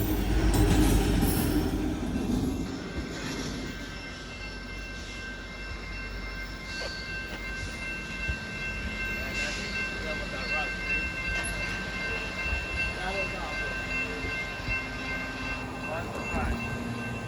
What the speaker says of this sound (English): that was the Union Pacific rock train